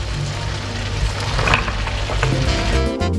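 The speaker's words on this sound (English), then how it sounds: "So I'm now adding my carrots." Carrots hit a hot pan with oil and minced meat, sizzling and frying loudly at close range as they are stirred, a dense steady crackle throughout.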